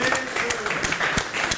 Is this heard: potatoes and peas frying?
no